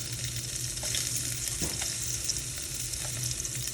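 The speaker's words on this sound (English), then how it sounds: "we're gonna throw this into the bacon grease or oil if that's what you have" Jalapeño rounds sizzle steadily in bacon grease or oil, a continuous close frying crackle with a brief stir or clatter midway and no talking.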